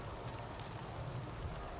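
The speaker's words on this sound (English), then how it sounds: "let's get away because it's drizzling" Light drizzle falls outdoors near honeybee hives, a steady soft hiss of fine raindrops pattering on surfaces with no voices, even and continuous throughout.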